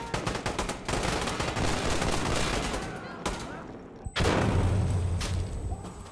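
Gunfire and grenade explosions in the video game Insurgency Sandstorm: dense, rapid bursts of automatic fire crackle for several seconds, break off, then resume with a heavy booming blast and continued shooting.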